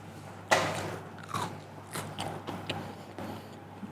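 Close bites into a crunchy-crusted baked item at an English tea, several crisp crackling bites and chews spaced irregularly, quiet and near, with no talking.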